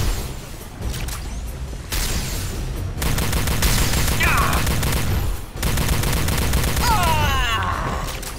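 Loud combat in the PC game Star Trek: Elite Force II, with repeated bursts of grenade explosions and gunfire, booming blasts separated by brief pauses, intense and close.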